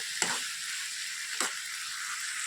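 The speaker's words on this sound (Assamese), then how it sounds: "মছলা গোটেইখিনি সানি খোৱালৈকে মই মাংসখিনি মিক্স কৰি ল'ম" Chicken with spices sizzling and frying in a pan while being mixed, a steady loud hiss with two brief scraping stirs.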